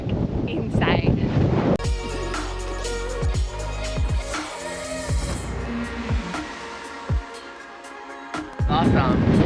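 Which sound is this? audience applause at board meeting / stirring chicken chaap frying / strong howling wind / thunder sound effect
strong howling wind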